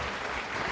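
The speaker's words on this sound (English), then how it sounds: "Let's give a huge round of applause and welcome Dr. Vijender Singh Chauhan to the stage" Brief burst of audience clapping as a speaker is welcomed onto the stage at an event in Guwahati, a dense even patter from many hands, moderately quiet and cut short.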